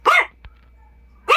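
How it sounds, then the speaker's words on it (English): A dog gives two sharp, loud barks about a second apart, close by, over a low steady hum. "my dog was barking for a bit"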